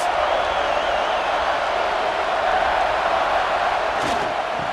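A stadium crowd roars steadily in College Football 26 during a Michigan State versus Michigan game, a dense, continuous wall of cheering that stays loud throughout, with a brief swell near the end.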